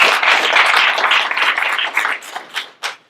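Applause from an audience at a town's 125th anniversary celebration in Pennsauken: dense, sustained clapping that thins out and fades to a few scattered claps.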